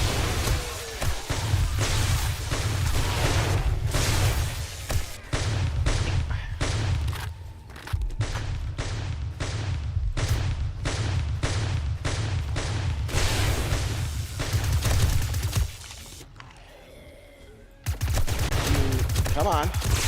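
Automated base turrets in the zombie survival game 7 Days to Die, some fitted with crippler mods, fire sustained rapid bursts at zombies: loud, dense volleys with short pauses and a near-continuous rattle.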